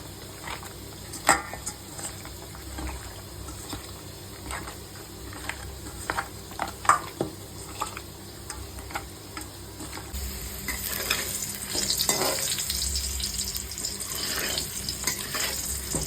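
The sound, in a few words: potatoes frying in oil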